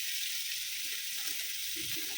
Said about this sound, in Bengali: এই মাছটা ভাজতে বসিয়ে দেবো।